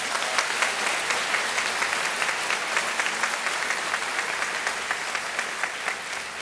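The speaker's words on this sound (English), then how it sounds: "How about a big round of applause?" Large audience at the 2021 Libertyville High School graduation ceremony gives sustained, even applause, a dense steady wash of clapping that holds at constant loudness throughout.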